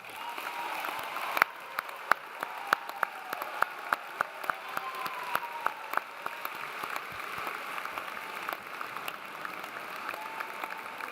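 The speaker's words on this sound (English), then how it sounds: "please give yourself one final round of applause" Graduates at a London undergraduate commencement ceremony applaud themselves, a sustained wash of many hands with distinct sharp claps from someone close by, after a sudden loud start.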